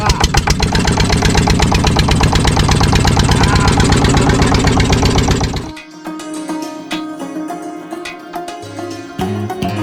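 A fishing boat engine runs loud and close with a rapid steady knocking rhythm, then cuts sharply to a lower, rougher idle for the rest of the span.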